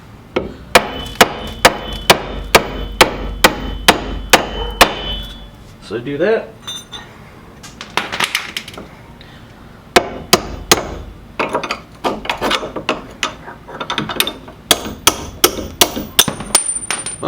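A small hammer taps a nut threaded back onto a bolt while coilovers come off a drift-project Cadillac CTS-V, giving loud sharp metallic raps in quick steady runs, with a brief break and some talk in between.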